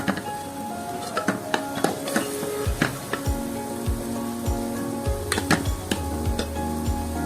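A spoon stirs turmeric and salt through a pot of egg and mutton soup, with repeated metallic scrapes and clinks over a soft bubbling sizzle.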